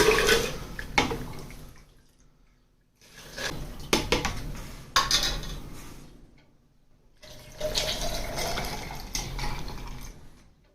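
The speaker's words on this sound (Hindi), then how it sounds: "अब ये इसको बर्फ के अंदर शामिल करेंगे ऐसे।" Tamarind and plum sharbat pours over ice in three bursts with short pauses between them, splashing and crackling, close and fairly loud.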